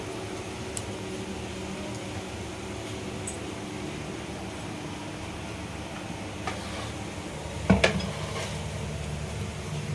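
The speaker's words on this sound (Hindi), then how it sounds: "तो यहाँ हो रहे हैं पकोड़े फ्राई" Chana dal pakoras deep fry in oil, a low steady bubbling with faint clinks of utensils and one louder knock near the end.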